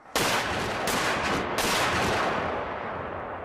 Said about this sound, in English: The men at the rear of the gun prime the piece and fire the piece.